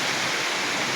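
The Athirkkad river flows in a steady, broad rushing wash, loud and close, with no voices over it.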